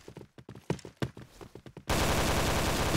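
Gunfire in the video game Point Blank bursts in as a dense, loud, sustained blast of shots filling the second half, following a stretch of sparse, quieter clicks and thuds.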